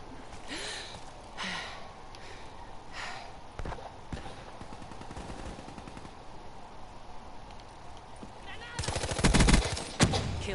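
Gunfire in a PS4 video game: scattered sharp shots crack out through a busy game soundscape, ending in a louder, denser burst near the close, while players talk over it.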